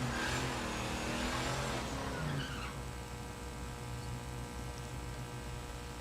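A supercharged LS-powered drag racing wagon at a dragway revs hard at the line, its engine pitch sweeping up then dropping off after about two seconds into a lower steady idle rumble, quite faint overall.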